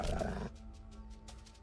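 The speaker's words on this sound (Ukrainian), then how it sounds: "Ну це не собаки, це вовки." Wolves in the video game Fight Life: Vanguard let out a loud snarling roar that cuts off abruptly, followed by quieter game sounds with soft rhythmic whooshes and a low steady hum.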